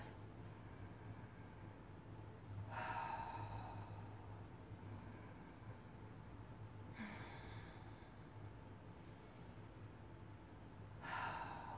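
Three slow, deep breaths during a yoga pose, each a soft airy exhale spaced several seconds apart over a faint steady background hum.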